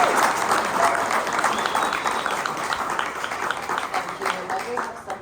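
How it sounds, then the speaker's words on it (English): Steady applause from a crowd, dense clapping filling the whole stretch at a fairly even level, fading slightly toward the end. "Please give her a round of applause."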